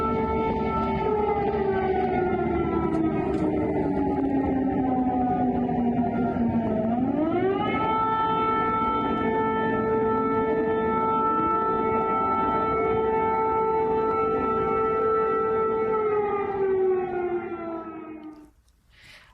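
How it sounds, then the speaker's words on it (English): A loud wailing air-raid siren in Kyiv drones steadily, its pitch dipping then rising and holding for a long stretch before fading out at the end. "there you heard the siren ringing out in Kyiv for the first time in 51 days"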